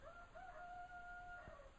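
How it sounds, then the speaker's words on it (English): A rooster crows once on a rainy day, a long drawn-out call that sounds somewhat distant against steady background noise. "And the rooster is complaining because"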